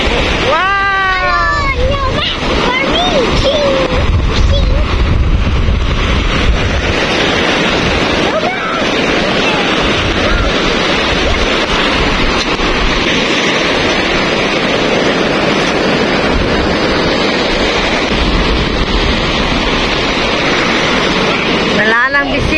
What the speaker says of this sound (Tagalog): ang taas ng alon na yan